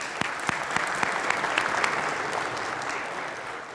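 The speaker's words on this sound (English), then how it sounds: "Let's give you guys a round of applause." Audience applause for veterans at a City of Columbus employee appreciation event, a steady wash of many hands clapping with a few sharp individual claps standing out, sustained at moderate loudness throughout.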